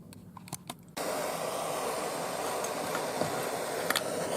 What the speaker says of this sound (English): and I'll fire up my torch